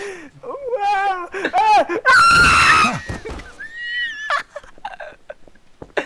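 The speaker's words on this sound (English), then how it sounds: "His wife is fucking screaming in the distance." Shrill distressed screams from a woman in a Half-Life 2 roleplay game, rising and wavering in long piercing bursts, mixed with people talking and laughing nearby.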